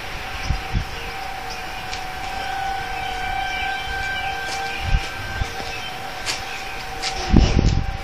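Tornado warning sirens wail continuously during a storm chase, a steady sustained tone over outdoor background noise, with a few low thumps and a louder burst of rumble near the end.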